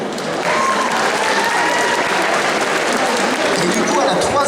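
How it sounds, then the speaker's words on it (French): Audience applause at a cosplay contest award ceremony during the Necronomicon 2023 convention: a broad, steady wash of clapping from a large crowd, swelling in quickly and holding at full strength, with faint tonal traces of voices or music underneath. "Donc on applaudit ce moment un peu tendu."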